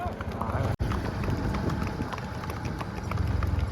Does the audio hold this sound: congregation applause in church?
no